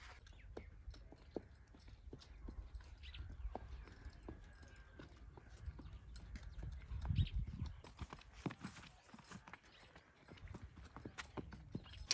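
Hooves of a ridden mare clip-clop steadily on the ground, a faint, irregular patter of footfalls over low outdoor rumble, with no talk.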